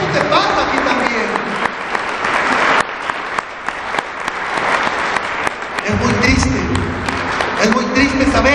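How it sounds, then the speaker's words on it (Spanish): Church congregation applauding for the Lord during a Spanish-language sermon, sustained loud clapping with a brief dip midway, mixed with voices and shouts throughout. "Dale un aplauso al Señor"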